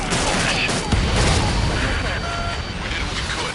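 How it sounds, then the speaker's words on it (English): Gunfire and booms from an aerial combat sequence in the video game Ace Combat 7, aimed at escort drone aircraft, rattling continuously with dense bursts and a low rumble throughout. "In that case, we have no choice but to shoot the aircraft down."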